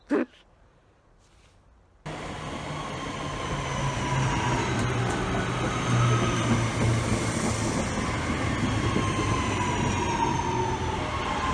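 A train at a railway station, heard after a brief quiet start as a sudden loud rush of rolling wheels and rumble that builds and holds steady, with faint squeals over the noise.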